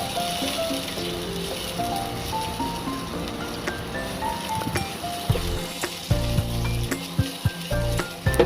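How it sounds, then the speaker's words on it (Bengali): Chopped green chili and onion fry in oil in a pan, a continuous loud sizzle broken by clattering stirs and utensil knocks near the end, with no voice over it. "একটা কাঁচা লঙ্কা আর একটা বড় পেঁয়াজ কুচি। এই সব উপকরণগুলি তেলে ভালো করে ভেজে নেব।"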